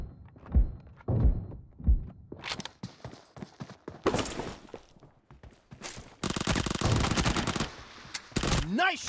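Uzi fire in a PUBG gunfight: scattered thuds and short bursts early on, then a long, loud, sustained automatic burst near the end, close and harsh.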